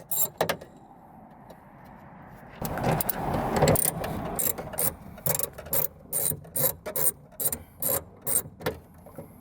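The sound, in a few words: ratchet removing bolts on Chevy Cruze trunk trim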